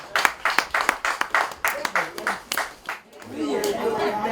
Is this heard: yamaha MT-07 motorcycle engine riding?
no